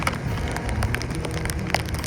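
Steady rain patters densely on a surface, a constant close hiss of drops with no voices.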